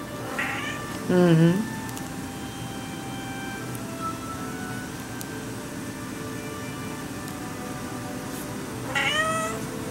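A pet cat meows loudly twice while playing, one near call early and a rising one near the end, with quiet indoor room tone between and a brief murmur from a person.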